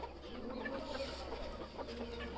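Soft, scattered clucking from a few Aseel chickens in a rooftop cage after being fed grain, over a low steady background hum.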